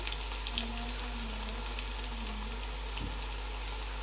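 A Nigerian vegetarian no-meat stew fries in a pot with thyme and curry powder being stirred in, making a steady, dense sizzle and crackle at moderate loudness with faint stirring knocks and no talking.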